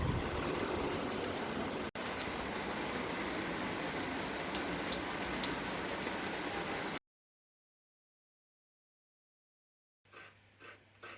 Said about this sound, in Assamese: তাতে বৰষুণে দিয়ে আছে